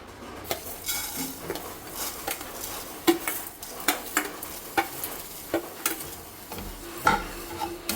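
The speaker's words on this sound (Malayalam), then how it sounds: "നമുക്കിത് വറുത്തെടുക്കാം." Rice and fenugreek seeds dry-roasting in a pan, with a light dry rattle and repeated sharp clinks and scrapes of a spoon stirring against the metal, close and irregular, with no talk.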